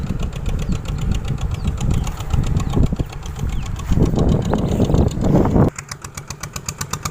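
A farm tractor tilling soil runs close by with a steady rough chugging rhythm, loud throughout, settling into a regular idle near the end.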